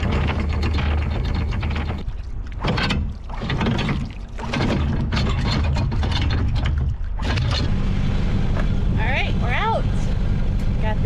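A steady low sailboat engine drone runs throughout, with wind buffeting across it and muffled voices now and then.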